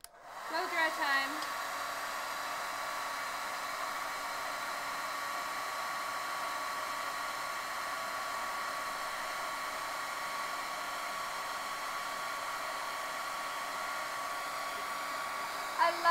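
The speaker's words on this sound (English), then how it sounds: "Blow dry time." A hair dryer blows steadily on a painting, a constant airy whine that starts abruptly and holds at an even level throughout.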